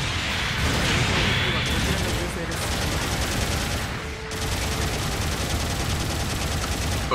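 A dense, sustained barrage of gunfire and impacts comes from mobile suit combat against a Z'Gok team in Mobile Suit Gundam Battle Operation 2. A brief dip interrupts it partway, and a voice talks beneath the shooting.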